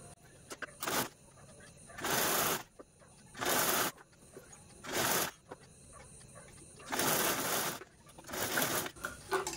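A sewing machine stitches down a double-folded fabric strip in short, loud bursts of rapid whirring, each lasting about half a second to a second, separated by quieter pauses with faint handling noise.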